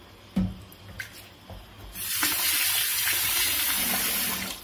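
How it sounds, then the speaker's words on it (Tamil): Water pours into a cast iron pan: a few faint clinks and splashes, then a loud steady gushing stream from about halfway on, with no voices. "இந்த பேன் வந்து மூழ்கிற அளவுக்கு தண்ணி விட்டுக்கலாம்"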